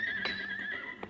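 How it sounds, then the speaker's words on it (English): A horse whinnies in a small-town blacksmith shop, a Western radio-drama scene where the animal is being held for shoeing; one loud, sustained neigh with a bright pitch and short breathy bursts, heard alone. "Hold that cayuse down, Jingles."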